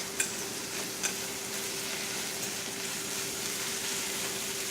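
A fork stirs food in a hot frying pan on a home stove, over a steady, even sizzle of frying with two light metallic taps near the start.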